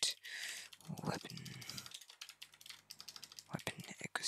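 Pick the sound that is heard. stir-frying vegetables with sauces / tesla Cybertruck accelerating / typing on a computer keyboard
typing on a computer keyboard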